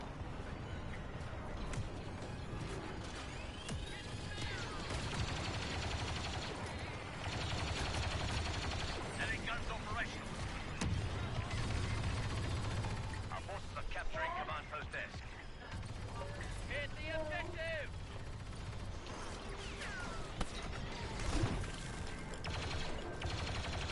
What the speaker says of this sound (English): That was a turret. That's what that was shooting at us.